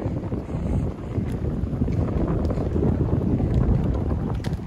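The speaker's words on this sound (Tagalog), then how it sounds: "Grabe ang lakas ng hangin." Strong, cold wind in a park in Korea roars and buffets the microphone continuously, a dense rumbling rush with no pauses.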